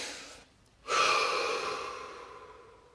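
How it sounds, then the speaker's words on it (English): A single deep breath drawn during a guided body-awareness session: brief quiet, then a strong airy inhale that swells suddenly and slowly fades out, close and alone. "Deep breath."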